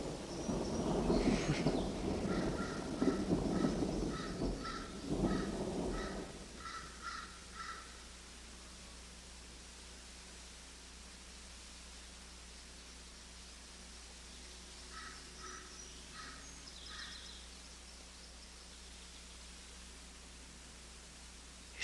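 Crows caw in repeated bursts, a loud rumbling gust over the first few seconds, then fainter caws return later against a quiet hiss.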